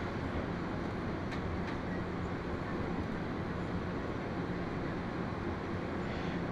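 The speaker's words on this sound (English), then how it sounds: "this time I'm taking the plane train" Steady rumble of an airport people mover train in motion at Hartsfield Atlanta airport, a continuous broadband roar with faint rail noise, no talk, even loudness throughout.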